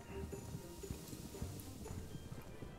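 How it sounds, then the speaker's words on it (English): Black horse with light tack in Star Stable Online trotting through snow, its hooves giving a steady, soft clip-clop rhythm under faint ambient game music. "there's something about riding a black horse in the snow with light tack"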